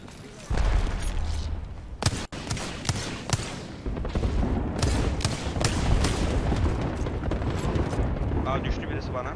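Bombs going off in a shooter video game, a heavy blast followed by repeated booming and crackling bursts over a dense, continuous roar, with people talking over the action.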